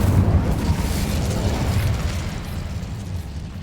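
The Incendio fire spell in Hogwarts Legacy goes off as a loud, close burst of roaring flame, booming at first and then fading into a crackling rumble over a few seconds.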